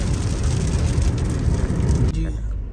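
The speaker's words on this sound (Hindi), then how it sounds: "तो यहाँ पे फिर तेज़ बारिश शुरू हो गई है।" Heavy rain drums steadily on a moving car in the hills on the road to Murree, a dense, loud hiss and patter over road rumble that drops off abruptly near the end.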